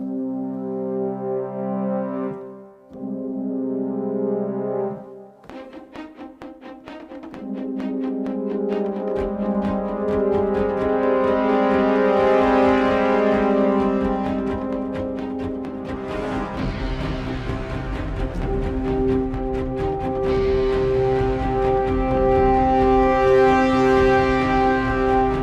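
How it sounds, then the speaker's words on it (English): French horn section from the Spitfire Albion Colossus sample library playing sustained hairpin swells, soft onsets growing loud and fading, layered chords building into a full, dense ensemble texture with no voices. "It's time for some French horn hairpins."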